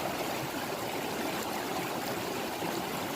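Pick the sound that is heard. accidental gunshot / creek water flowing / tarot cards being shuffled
creek water flowing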